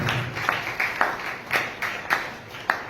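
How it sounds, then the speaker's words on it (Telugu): A church congregation claps together in a loose, regular rhythm, several dozen hands striking in unison about twice a second, each beat a crisp burst that echoes slightly in the hall. "చప్పట్లు కొట్టండి ఒకసారి"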